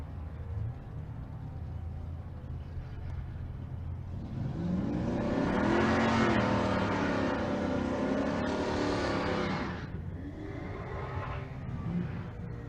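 A 1979 Chevrolet Monte Carlo G-body drag race car roars down the strip at a race week event, its engine swelling loud and rising in pitch before fading quickly into the distance.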